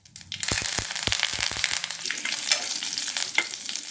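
Mustard seeds splutter and pop in hot sesame oil with curry leaves, a dense, loud sizzle punctuated by sharp crackles early on, then settling into continuous frying hiss.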